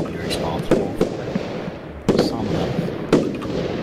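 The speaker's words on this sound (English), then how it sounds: "Who is shooting off all the fireworks?" Fireworks going off in the Roblox game Lumber Tycoon 2, a string of sharp cracking bursts at irregular intervals, with a couple of louder pops standing out over a steady background.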